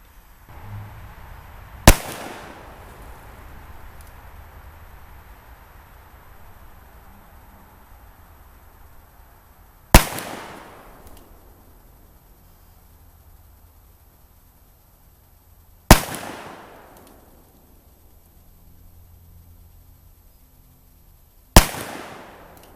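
Four loud .45 Colt revolver shots fired with cast lead bullets at a rustic log cabin deer hunting camp, spaced several seconds apart, each a sharp crack followed by a fading outdoor echo.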